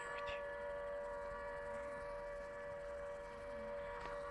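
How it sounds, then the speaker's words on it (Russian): A sustained siren drone from a Siren Head forest video game holds a steady tone throughout, fairly faint under a background hiss. "Ой, сирена."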